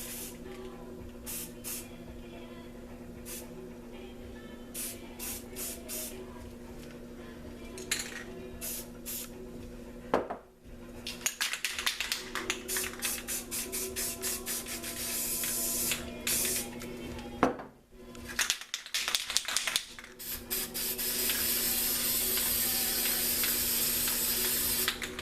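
Rust-Oleum aerosol spray paint hissing through a stencil in repeated bursts, short sprays early giving way to longer continuous blasts, close and fairly loud with brief pauses between, no talking.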